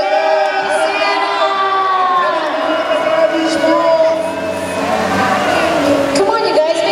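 A crowd cheers and whoops for Santa Claus at a lively event, a sustained wash of noise with shrill rising tones, blended with loud voices throughout.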